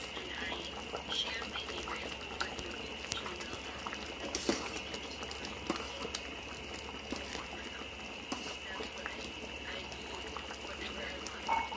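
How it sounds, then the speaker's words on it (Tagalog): A cooking pot on the stove simmers after absorbing eight cups of water, giving a steady low bubbling and popping that runs throughout, with occasional louder bursts and a faint background hum. "Konting kulo pa, siguro mga 3 minutes."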